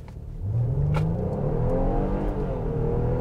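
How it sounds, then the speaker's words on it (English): A 2023 Nissan Pathfinder Rock Creek with its V6 engine accelerates hard from a stop, the engine note swelling in quickly and climbing through rising pitch sweeps, heard from inside the cabin without talk. "Nice sounding V6."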